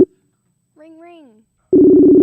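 A telephone call tone sounds loud and steady, following a short rising voice-like tone in an otherwise quiet moment.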